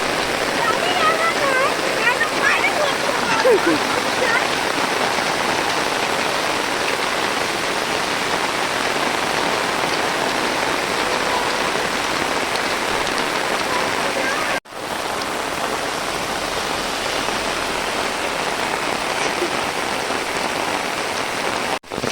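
Heavy monsoon downpour in the Konkan countryside, a loud, dense, unbroken roar of rain pounding on surfaces with rushing water, constant throughout with only a couple of momentary dropouts.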